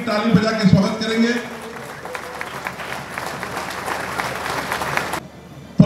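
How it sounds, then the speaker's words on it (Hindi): An audience at a BJP political rally in Chandrapur applauds, steady crowd clapping rising after a speaker's amplified voice and continuing for several seconds before cutting off. "एक बार चंद्रपुर की जनता फिर एक बार अपने सारे यहाँ पे उपस्थित ताली बजा के स्वागत करेंगे"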